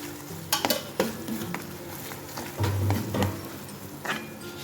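Thick paneer masala gravy bubbles in a pan, with several clacking spoon strokes and scrapes over a low, steady cooking hiss, close and fairly loud, no voices.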